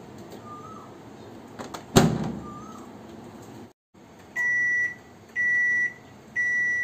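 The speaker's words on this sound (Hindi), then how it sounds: "अब हम लोग इसको माइक्रो ओवन में डालेंगे" Microwave oven for tandoori chicken: a sharp thud of the door shutting, a brief silence, then three steady electronic beeps spaced about a second apart, close and clear.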